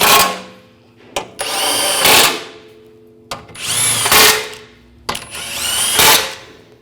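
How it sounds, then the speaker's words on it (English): A power tool drives bolts on a 2009-2010 BMW 535i xDrive front CV axle in three close, whirring bursts of about a second each, rising in pitch and separated by short pauses. "Get the bolts started. Now tighten these down."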